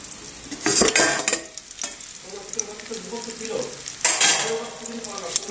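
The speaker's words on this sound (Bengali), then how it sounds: "মশলাগুলো এই যে কষানো হয়ে গেছে, এবার এর মধ্যে মাংসটা দিয়ে দেবো" Blended spice paste, cooked down until the oil separates, sizzles and fries in a pan, with spatula scrapes and stirring clatter, and louder bursts of frying near the start and toward the end.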